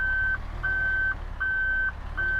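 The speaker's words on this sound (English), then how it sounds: "Just woken up the entire city of Liège through reversing this truck." Steady reversing beeps from a Mercedes Actros MP1 truck in Euro Truck Simulator 2, four long evenly spaced tones over a low rumbling engine idle.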